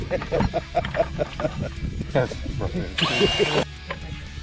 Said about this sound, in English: after Les is done drilling all the integrity out of the bottom of the bucket